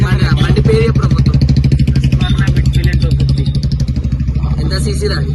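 A new 250 cc motorcycle idles and revs nearby with a steady, throbbing engine note and some mechanical clatter. Voices talk over it.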